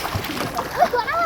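A splash as someone dives into a village pond in summer heat, a brief watery slap and burble close by, with people talking throughout.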